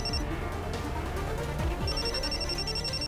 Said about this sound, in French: Docteur Pankori, je reçois un appel de votre part